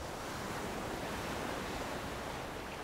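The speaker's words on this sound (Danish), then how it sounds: "Bølgerne de bryder i en 2-3 rækker her." Winter sea waves breaking on the shore in two or three rows make a loud, steady, unbroken surf roar from close by, with no voices.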